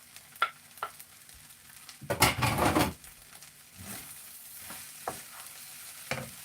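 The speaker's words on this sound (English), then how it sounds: "I put the egg and a bit of sausage first." Egg and sausage being stir-fried for fried rice, with a soft sizzle, a louder burst of frying as ingredients hit the pan, and scattered scraping taps of the spatula.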